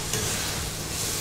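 Soup ingredients fry in a pan for a restaurant-style chicken hot and sour soup, a brief steady sizzle with stirring scrapes, close and fairly quiet, with no voices.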